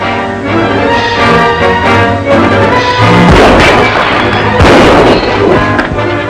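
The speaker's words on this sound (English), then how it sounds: "He shot those windows out to bring the sheriff" Gunfire blasting out windows in a Western showdown with the Durango Kid, loud continuous volley with sharper crashing bursts near the middle and end, music or clamor underneath, no clear talk.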